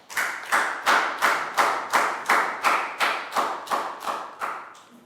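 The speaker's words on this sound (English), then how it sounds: "High five and a big round of applause for Pangpon." A classroom claps in unison for a pupil: about a dozen evenly spaced, fairly loud group claps in a steady rhythm, each with a short decaying tail, and no talk.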